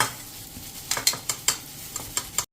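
Homemade red chili powder being sifted in a large vessel: a quick series of about eight sharp, close tapping and scraping strokes in an uneven rhythm, stopping abruptly at the end.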